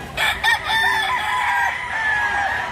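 A native rooster, a young kanawayan about 11 months old, crows loudly and nearby, one long drawn-out call that rises then trails off, with brief clucking at the start.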